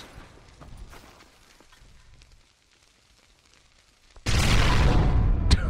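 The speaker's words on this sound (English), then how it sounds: "Explosion!" A video game explosion erupts suddenly near the end as a loud, dense burst of noise that holds until the close, following a quieter stretch of scattered faint crackles and thumps.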